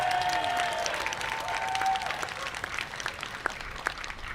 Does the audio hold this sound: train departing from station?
no